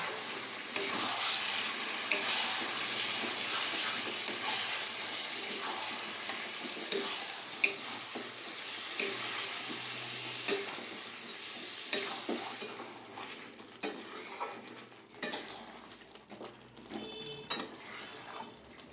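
Marinated chicken tipped into fried onions in a pan and stirred together, a dense sizzle with scraping spatula strokes that thins into intermittent clinks and stirring noises toward the end, no talking.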